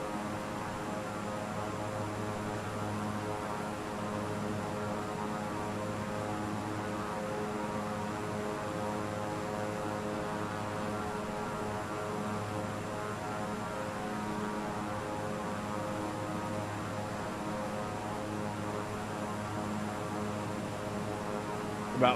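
Steady drone of a simulated Beechcraft twin on final approach into Agartala, its engine hum and airflow holding an even, continuous level with no talk over it.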